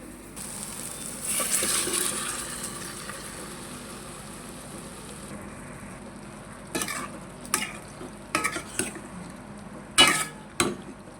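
Softly cooked mutton is stirred into pepper gravy in a simmering pan, with a soft sizzle underneath and several sharp scrapes and clinks of a spoon against the pot.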